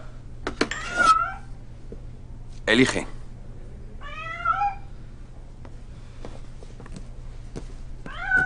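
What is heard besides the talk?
cat meowing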